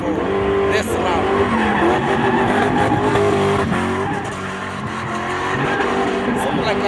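A car spins in stunt driving, its tires squealing and skidding continuously over a droning engine as someone talks over the noise.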